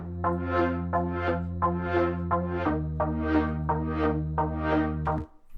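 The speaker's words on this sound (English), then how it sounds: "This is pretty much the plucky pad thing from the intro, just a little more complex." A layered plucky synth pad built from computer sounds plays a chord progression. Eight evenly spaced, bright plucked chords sit over a sustained low end, with the harmony shifting midway, and there are no voices.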